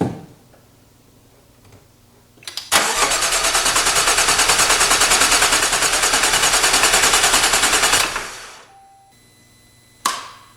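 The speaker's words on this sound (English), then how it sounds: "hopefully the fuel pump is not running, so just be cranking the motor" Starter motor on a Jaguar F-Type AJ126 engine cranks steadily for about five seconds without firing, a loud, even rapid chugging rhythm, followed by a brief click and another short burst at the end.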